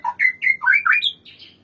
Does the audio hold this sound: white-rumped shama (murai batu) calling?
yes